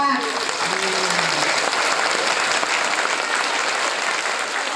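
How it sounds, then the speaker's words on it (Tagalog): Loud, sustained applause from a crowd at a pajama party, dense clapping filling the whole stretch, with a brief voice at the very start. "Palakpak."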